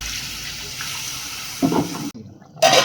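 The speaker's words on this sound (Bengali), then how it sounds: "এই পর্যায়ে আমরা দিয়ে দেবো পরিমাণ মতো জল।" Water is poured into an egg and potato korma gravy in a cooking pot, giving a brief splashing gush after a low background hum, then a second short, louder splash.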